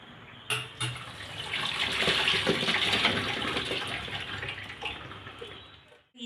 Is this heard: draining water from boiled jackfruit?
yes